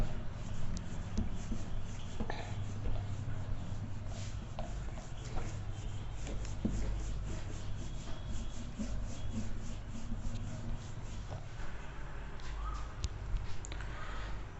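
Pen or marker scratching out a handwritten list, continuous close scraping and tapping strokes with short pauses, steady and moderately loud, without voices.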